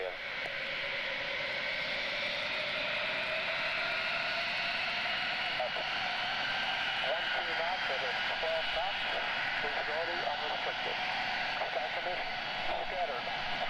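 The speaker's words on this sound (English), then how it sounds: "this KC-135 is going to be taken off on runway 29" A KC-135 tanker aircraft taking off on runway 29 at Mildenhall, a broad steady jet roar heard from a distance, continuous throughout, with people talking over it.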